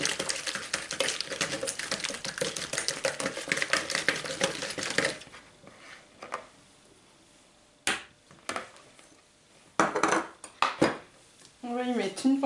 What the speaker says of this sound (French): Donc on y va un à un et on fouette.